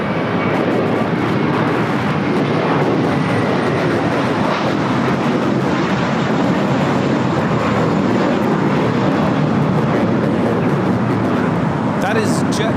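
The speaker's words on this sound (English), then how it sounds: "flight 1200, taking off to Fort Lauderdale on the A321" A JetBlue A321 jet bound for Fort Lauderdale takes off from LAX in a loud, steady, broadband engine roar that holds for the whole stretch, with voices talking underneath.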